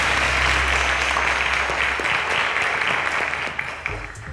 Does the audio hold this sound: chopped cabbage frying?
no